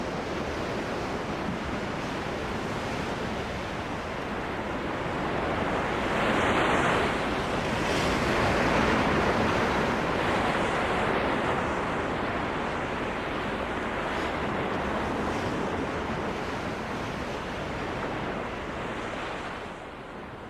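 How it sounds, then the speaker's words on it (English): Pacific ocean swell and surf roll in a continuous, loud wash of breaking waves, with wind buffeting throughout and a gentle rise and fall in intensity over a long stretch. "Driven by the wind over the wide Pacific, the swell builds."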